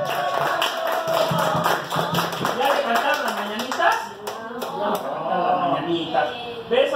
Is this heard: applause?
yes